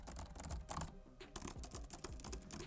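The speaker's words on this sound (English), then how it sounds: "both devices have really nice feeling keys on their boards. There's enough travel, can you hear the difference?" Brisk typing on the keys of a 13-inch MacBook and an iPad Pro Magic Keyboard: a fast, uneven patter of soft clicks with a short pause partway through, close up and quiet, with no talking.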